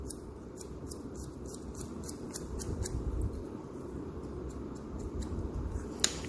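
Scissors snip repeatedly through men's hair cut at a 45-degree angle, giving close, crisp clicks in a quick, fairly even rhythm over a soft background hiss.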